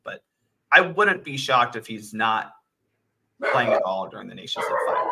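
Several dogs bark and yip indoors, partly buried under someone talking steadily close to the microphone.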